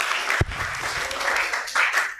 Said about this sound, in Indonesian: Nah, tepuk tangan kepada ulama Nusantara ya.